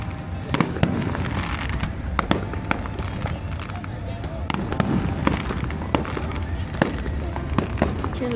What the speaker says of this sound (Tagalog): Do you like the fireworks?